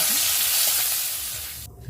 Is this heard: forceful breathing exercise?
no